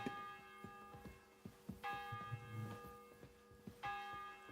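A clock bell tolls in the game Kingdom Come: Deliverance 2, three evenly spaced ringing strikes about two seconds apart, each with a long humming decay, over faint footsteps or clatter.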